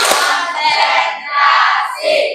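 A group of people performing the tepuk konsentrasi clapping routine as an ice-breaker, with dense hand claps and rhythmic patting filling the space in loud, near bursts.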